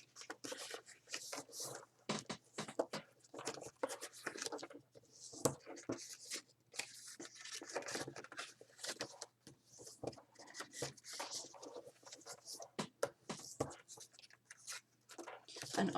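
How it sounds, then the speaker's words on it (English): Cardstock being folded and its score lines burnished, a close, continuous run of rubbing, scraping and papery creasing strokes with some light taps. "you're going to want to fold and burnish all your score lines"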